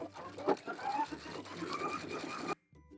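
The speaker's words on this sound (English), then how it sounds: "let's head over to the sewing machine and sew up a bow" A sewing machine stitches a fabric bow with a quarter-inch seam, making a close, steady mechanical whir with a faint rhythmic clatter that stops abruptly near the end.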